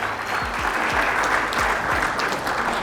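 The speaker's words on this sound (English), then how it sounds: "Give him a round of applause" A crowd at a sales seminar bursts into applause, a brisk wash of many clapping hands with some low thumps and murmured voices underneath.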